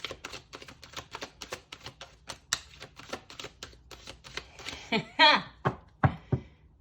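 Rapid crisp riffles and snaps of playing cards being shuffled, close by, with a voice speaking over the quick bursts.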